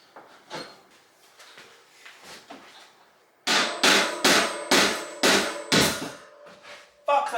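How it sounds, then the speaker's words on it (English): A screw extractor is hammered into a rounded screw during a mountain bike e-bike conversion. A few light taps come first, then about seven loud, evenly spaced metallic hammer blows ring out close by. "thinking that I could hammer this Throttle into the screw to get a good bite on it"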